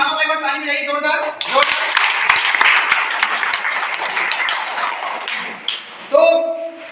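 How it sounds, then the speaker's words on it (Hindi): A seminar audience at a college motivational talk bursts into loud, dense clapping that lasts several seconds, framed by someone speaking just before and after. "एक बार ताली बजाइए जोरदार"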